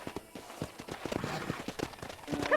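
Horse hooves clip-clop in Red Dead Redemption on a ranch, a steady uneven run of close thuds growing louder toward the end, with faint voice-like sound underneath.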